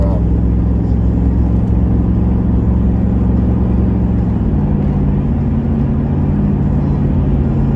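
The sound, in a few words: Ram pickup truck driving, shifting into overdrive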